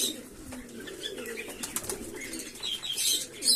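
Pigeons at a Sunday feeding session, with soft cooing and bursts of flapping wings mixed with scattered chirps, fairly close and steady throughout.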